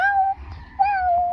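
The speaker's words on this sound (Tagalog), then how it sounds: "This is kitten and this mommy cat." A cat lets out two drawn-out meows close by, the second following a short pause, loud and clear with nothing else over them.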